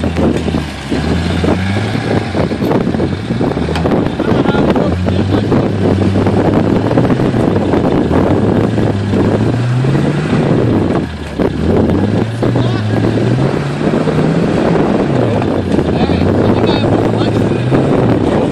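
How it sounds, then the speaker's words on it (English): A motor engine runs steadily with a rising and falling drone, loud and close, mixed with wind noise and rattling as the vehicle moves over rough ground, with people talking over it. "Listen to him, sounds like a brand new motor."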